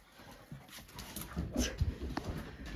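Puppies whimper and give soft yips at close range, small scattered cries over a noisy indoor background.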